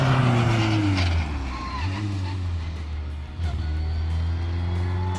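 A car laps the Knockhill race track in Scotland, its engine droning loud and close and rising and falling through gear changes, with no talk over it.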